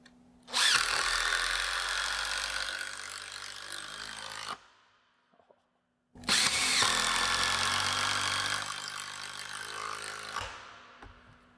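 An entry-level impact driver drives wood screws into Baltic birch plywood in two long, loud, close bursts of rattling whir about four seconds each, separated by a short pause, with no talking.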